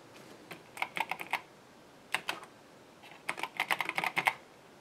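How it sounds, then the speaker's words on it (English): Keys being tested on an Epson HX-20 portable computer under repair, with bursts of sharp plastic clicks in quick groups separated by pauses, close and fairly quiet, with no talking. "I have to go through all the keys and see if they work."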